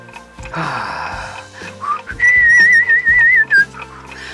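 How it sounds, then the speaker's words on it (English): A person whistles a short wavering tune, close and clear, after some clattering workshop noise at the start. "Just whistle or something"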